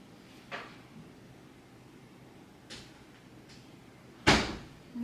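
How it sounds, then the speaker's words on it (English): A door closes indoors: a few soft knocks and handle rattles come first, then one sharp, loud thud as it shuts, all in a quiet room. "Now she shut the door."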